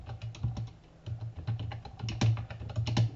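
Fingers type on a computer keyboard while entering Java code, a close and fairly soft run of uneven key clicks lasting about three seconds, with no voices.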